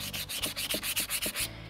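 Hand sanding of a wooden edge with 220-grit sandpaper: about a dozen quick, rhythmic back-and-forth scratching strokes, close and even, with no voices.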